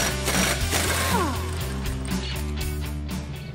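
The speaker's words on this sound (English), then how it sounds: "we can remove the spindle nut from the half shaft" Mechanical clanking and ratcheting at a 2015-2023 Ford Mustang rear wheel hub while the spindle nut comes off the half shaft, a busy run of close metallic clicks and rattles over a steady low hum, with no talking.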